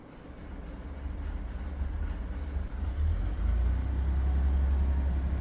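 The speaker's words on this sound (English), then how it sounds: "Engine is on." Aircraft engine running steadily in the Flight Simulator 2002 video game, a low continuous drone that grows slightly louder partway through, with no talk.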